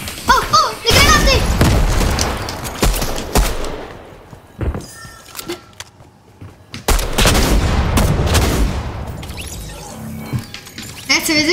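Explosions and bursts of gunfire in a Fortnite match, with grenades going off: loud booms and sharp cracks in clusters, separated by quieter stretches.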